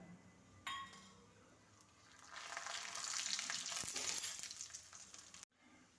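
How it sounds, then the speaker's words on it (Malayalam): Urad dal hits hot oil with popped mustard seeds while tempering for a roasted tomato chutney. A utensil clinks, then a strong sizzling frying sound swells and holds for a few seconds before cutting off abruptly. "കടുക് പൊട്ടി തീരുമ്പോഴത്തേക്ക് ഉഴുന്നുപരിപ്പ് ഇട്ട് കൊടുക്കാം"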